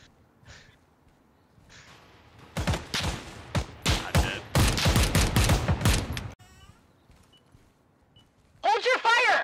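Gunfire in the tactical shooter Ground Branch comes as dense, loud bursts of rapid shots over several seconds. Brief voices and breathy sounds come before and after it.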